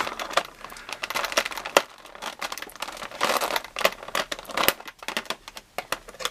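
Scissors cut open plastic and card packaging for an action figure, giving close crinkling and snipping sounds in irregular bursts of plastic rustle, with no talking.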